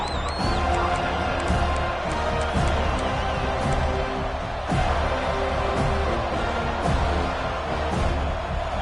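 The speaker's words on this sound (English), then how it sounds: "This crowd ready to make its presence known." Football stadium crowd at a Cal versus Florida State game, a steady roar of cheering voices filling the background, loud and continuous with broad swells, heard from a distance throughout.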